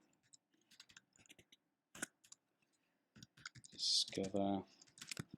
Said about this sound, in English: the text that I'm typing in now